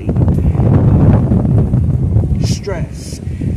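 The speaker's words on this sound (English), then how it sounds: "this wind is really windy" Heavy wind rumbles across the microphone in a garden, a loud, steady low roar, with a voice speaking underneath it.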